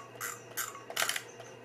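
A Holga 135 35 mm film camera is handled up close. Its shutter release gives a few faint, sharp plastic clicks and snaps in quick succession.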